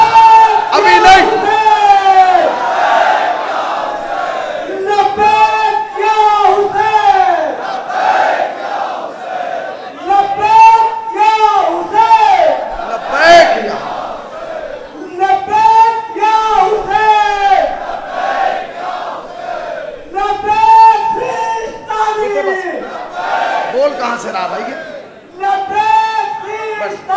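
Crowd at a dargah religious gathering shouting slogans in loud unison bursts, roughly every four to five seconds, each call swelling and fading across the whole stretch.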